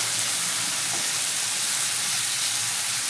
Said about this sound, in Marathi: चांगला आता त्याला भाजून घेऊ.